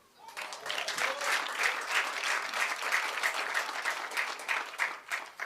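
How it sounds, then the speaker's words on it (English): An audience at the official opening of a youth expo applauds steadily, many hands clapping in a dense, even patter that holds throughout, close and fairly loud with no talking. "Another round of applause"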